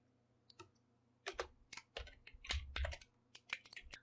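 An SQL query typed on a computer keyboard: close, crisp key clicks in irregular bursts with brief pauses, some heavier thumps of larger keys, in a quiet room without speech.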